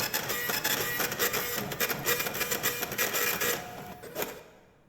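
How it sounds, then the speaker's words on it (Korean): Printer running in the Korean horror game Emberfly: rapid mechanical chattering and clicking that pulses steadily at close range, then fades out. "아 프린터구나"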